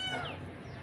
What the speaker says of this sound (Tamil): எங்கள் வீட்டுக்கு வந்து ஒரு பூனை வந்திருக்கு. இங்கே பார்த்தீங்களா கத்துது.